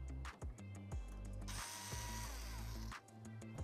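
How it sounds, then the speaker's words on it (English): A power screwdriver removes screws from a Jasminer X4-Q crypto miner during a teardown, with short bursts of whirring and ratcheting clicks and a longer sustained spin in the middle, close and clear with no voices. "So now I'm going to keep unscrewing."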